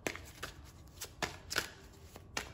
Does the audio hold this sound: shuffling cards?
yes